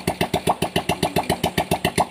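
Rebuilt Honda Revo motorcycle engine running on a stand, a steady rapid chugging beat of evenly spaced pulses, close and fairly loud with no other sounds.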